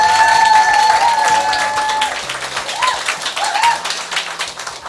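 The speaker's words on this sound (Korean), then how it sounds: "회장님 박수로 환영해 주세요." Audience applause welcoming a company chairman to speak at a leaders' meeting in Toronto, a dense, steady wash of clapping that slowly fades, with a few whistles and cheers rising over it.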